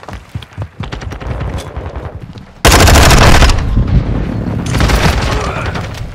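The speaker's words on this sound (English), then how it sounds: "Friendly precision airstrike inbound." Precision airstrike explosions in Call of Duty Modern Warfare 2: rapid distant gunfire gives way to a sudden loud barrage of booming blasts that roll on continuously, with a second swell of detonations toward the end.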